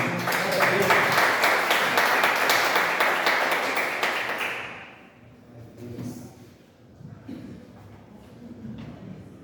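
Loud, sustained applause from a church congregation fills the first half, then fades, leaving scattered thumps and quiet room noise.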